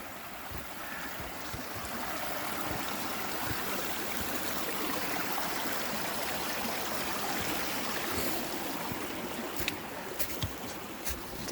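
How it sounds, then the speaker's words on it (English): A mountain creek in West Virginia rushes over rocks, a steady broadband wash of flowing water heard close by with a few faint clicks near the end. "Another creek."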